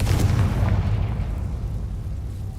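A Confringo blasting spell erupts in Hogwarts Legacy, a loud, deep explosive boom at the start that rumbles and fades away over a couple of seconds, with no voices.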